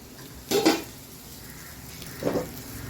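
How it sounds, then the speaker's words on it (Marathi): Stuffed okra is stir-fried in a pan over a low flame, with two distinct scraping clatters of a spatula against the pan over a faint background sizzle and no speech. "आता ही भेंडी परते परतते अशी ही भेंडी मी चांगली परतून घेते"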